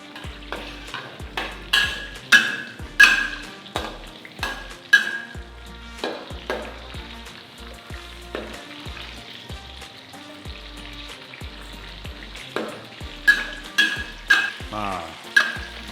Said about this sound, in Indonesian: Semuanya kita tumis dulu ya.